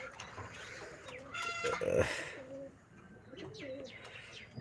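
Domestic pigeons, a hobbyist's breeding pairs, coo in soft, throaty, repeated rolls at close range, with light rustling around them and no talking.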